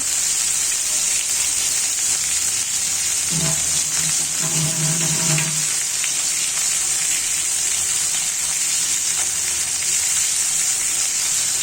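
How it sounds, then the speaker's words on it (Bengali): Fish frying in a pan with onion, garlic and salt, a steady loud sizzle running throughout, with a brief stir or scrape in the middle. "তাহলে আমি মাছগুলি ভেজে নিব পেঁয়াজ রসুনের সাথে লবণ দিয়ে দিচ্ছি"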